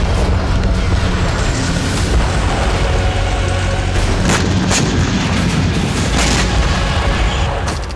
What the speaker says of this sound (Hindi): ड्रोन से गिराए बमों से कई धमाके हुए